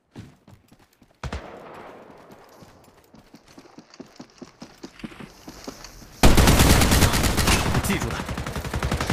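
Rapid gunfire at enemies in the mobile shooter Apex Legends, sharp repeated shots rattling in quick bursts, then a loud sustained blast of noise and continued firing near the end.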